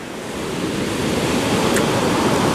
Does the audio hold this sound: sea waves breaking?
yes